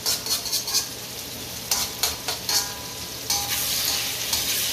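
Ginger and garlic fry in a pan for Japanese simmered eggplant, giving a loud, close, continuous sizzle broken by quick bursts of spatula scraping and stirring.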